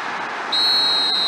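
A referee's whistle signals half-time in an eFootball 2022 match between Liverpool and Tottenham Hotspur: one long, shrill, steady blast begins partway through and holds over a low crowd roar.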